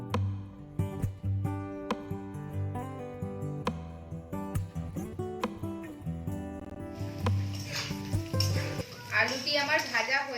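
Potatoes fry in a pan while a Bengali-style rohu fish curry is cooked, a steady sizzle and stirring mostly buried under loud background music, the frying becoming clearer toward the end.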